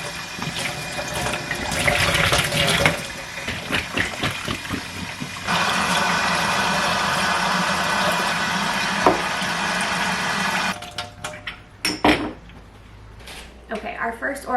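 Tap water runs and splashes in a sink as a florist washes bottles and vases, steady gushing broken by clinks and knocks of glass, with someone talking over it.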